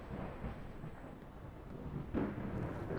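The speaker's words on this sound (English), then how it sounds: "starting to downpour." A thunderstorm downpour in the Fallout: London video game, with a low continuous rumbling roar of heavy rain and a louder swell of rolling thunder near the end.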